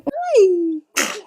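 A baby makes a short rising-and-falling squeaky vocal sound, then after a brief pause gives a single close, breathy sneeze.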